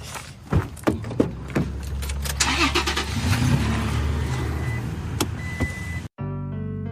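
A car heard from inside while following another vehicle: a few sharp knocks and clunks, then a steady engine and road hum with a power-window whir, ending in an abrupt cut to a short electronic tone.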